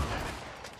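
Rapid gunfire from a seven-shot weapon in the video game Uncharted, a dense, continuous burst of loud overlapping shots that fills the whole moment.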